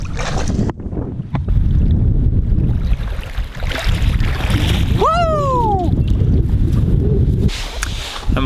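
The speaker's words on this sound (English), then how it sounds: "it is really windy out here" Strong wind buffets the microphone outdoors while trout fishing, loud continuous low rumbling gusts with a brief whistling squeak midway and faint sounds underneath.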